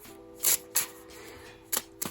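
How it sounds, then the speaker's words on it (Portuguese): A deck of tarot cards is shuffled, giving several short crisp riffling bursts in an irregular rhythm, close and clear against a quiet background. "baralham,"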